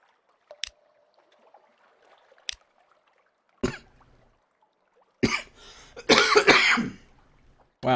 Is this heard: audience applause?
no